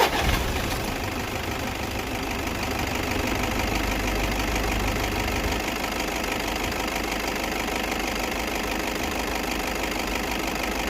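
A car engine starts after its air flow meter has been cleaned, then settles into a steady, close, even idle with a fine knocking rhythm that runs alone without a pause.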